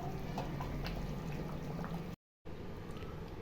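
A pot of fish kuzhambu curry bubbles and simmers as it thickens, a soft continuous popping and gurgling close by, briefly cut by a moment of silence.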